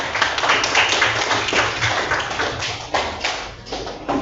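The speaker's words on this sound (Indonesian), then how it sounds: "tepuk tangan dulu" A classroom of seventh-grade students claps hands together, a dense, steady patter of many hands that continues for several seconds with a few louder bursts near the end.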